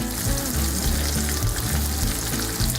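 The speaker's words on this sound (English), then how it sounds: "I'm going to go ahead and add the onions because it'll take them a few minutes to soften up" Onions frying in a pan with bacon, a loud, dense, close-up sizzle with constant crackling that holds evenly the whole time, with no voices over it.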